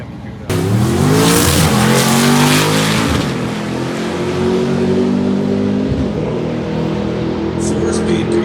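Plymouth Cuda drag car with a four-speed, launching at an old-time drag race: a sudden loud engine roar climbs hard through gears with a shift, then fades as the car pulls away, with crowd noise behind.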